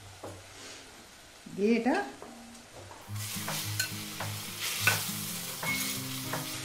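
Fried brinjals stirred into a curd gravy in a pan, a brief clatter as they drop in, then a steady close sizzle with rhythmic stirring and scraping, a few spoken words at the start.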